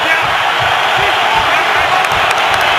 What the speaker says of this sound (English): this crowd now gets into it